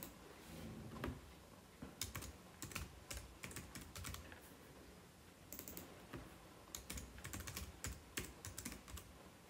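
Typing on a computer keyboard while labeling shapes in Keynote: bursts of quick, crisp key clicks with short pauses between them, close and fairly quiet, with no speech.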